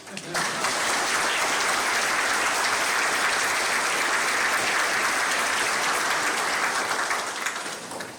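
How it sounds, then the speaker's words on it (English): Sustained applause from an audience at a military retirement ceremony at The Citadel, a steady dense clapping that swells in quickly, holds evenly for several seconds, then tapers off. "Just a round of applause, please."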